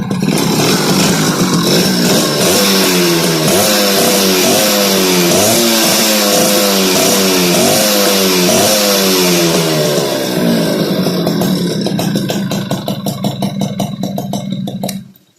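A motorcycle engine fitted with a Mikuni carburetor idles and revs repeatedly in steady rising-and-falling surges for about twelve seconds, loud and close, before being shut off and dying away.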